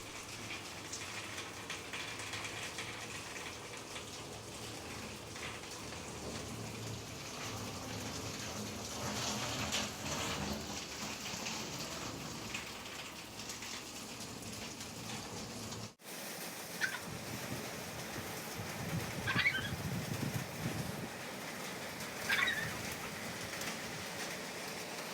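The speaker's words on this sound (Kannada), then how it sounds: "ನೋಡಿ ಮಳೆ ಕೂಡ ತುಂಬಾ ಬರ್ತಾ ಇದೆ." Heavy rain falls during a drive back toward Hubli near Shiralakoppa, a continuous soft wash of noise that swells at times, with a short cut partway through.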